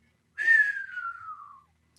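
A single human whistle glides steadily downward in pitch for about a second, a voice imitating the note of a falling bomb, clear and close with nothing else around it.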